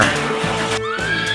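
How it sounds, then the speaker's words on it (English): A horse neighs in a loud, close, shrill whinny with a quavering, wavering pitch that runs almost without a break. "horse"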